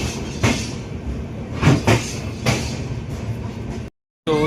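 A special passenger train pulls out of Udhampur railway station on the Katra–Varanasi run, with loud steady rumbling, rhythmic clatter of wheels over rail joints, and a brief dropout before the noise resumes.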